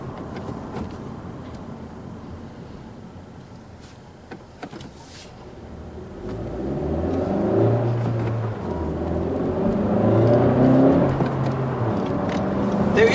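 A 2017 Honda Civic EX-T with a turbocharged engine and 6-speed manual gearbox revs from interior cabin quiet into a rising, moderate engine drone with pitch steps as it accelerates through gear changes, heard from inside the car.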